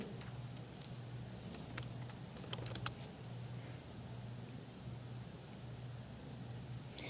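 Someone types a pharmacy search on a computer keyboard in a prescription-writing program, with a short burst of light clicking keystrokes over a steady low hum, quiet and close.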